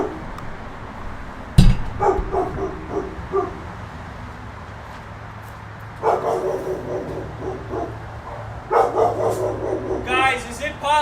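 A dog barks in bursts of yips and sharp woofs in the background, several separate volleys, while someone talks and a loud thump sounds early on.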